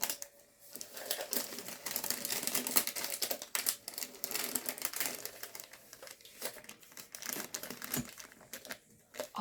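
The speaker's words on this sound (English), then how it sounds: "I'm going to wrap the butcher paper around my mug" Butcher paper crinkles and crackles continuously as it is wrapped around a sublimation mug before pressing, a dense run of close, busy rustling with sharp crackles throughout and no voice.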